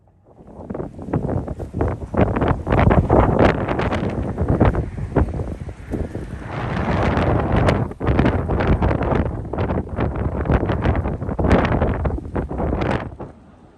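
Strong windstorm gusts roar and buffet the microphone during a hike on the Iroquoia trail, loud continuous rumbling blasts that surge and ease in waves without letup.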